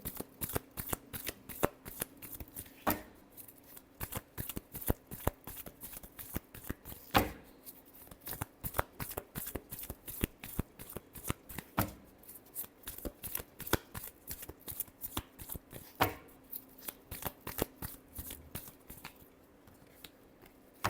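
Tarot cards shuffled by hand in quick riffling bursts, a dense run of crisp close flutters and snaps repeating steadily for a long stretch with no speech.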